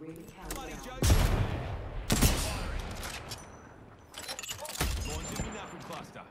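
Video-game gunfire from a magic-user character with explosive attacks, heard as a few sharp bursts spaced a second or two apart, with a voice speaking between and under them.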